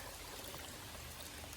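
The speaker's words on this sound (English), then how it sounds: "There's tons of creek crossing." Creek water flowing steadily across a forest hiking trail in a wet, misty state park, a constant soft rushing stream heard alone with no voices.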